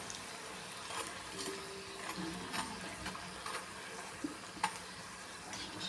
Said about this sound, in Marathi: आता आपण इथं पलटी करून घेऊया छान गोल्डन होईपर्यंत आपल्याला फ्राय करून घ्यायचे